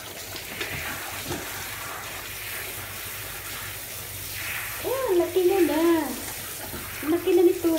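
Water pours steadily while a dog is bathed, a broad running-water wash filling the clip, with people talking over it and louder voices near the end.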